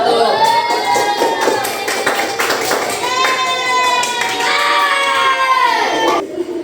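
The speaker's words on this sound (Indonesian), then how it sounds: "Berikan tepuk tangan untuk kelompok 1." Classmates in a classroom applaud a student group, a burst of rapid clapping mixed with children's shouts and cheering voices, loud and close, tapering off at the end.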